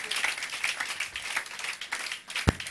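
A church congregation claps in acclaim of the Lord, a steady, moderately distant patter of many hands for a few seconds, ending with one sharper, louder clap.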